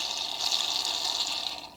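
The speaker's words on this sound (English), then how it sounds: "Can you see it's dripping down now?" Fuel trickles and splashes steadily through the float valve of a Puch Maxi moped carburetor, a close, continuous hiss lasting under two seconds with no voices.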